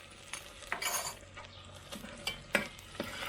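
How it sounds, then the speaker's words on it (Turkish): Onions sauté in a pan with tomato paste, giving a soft steady sizzle under intermittent scraping and clinking of a utensil stirring against the pan, close and moderately quiet. "Evet soğanımız kavruluyor."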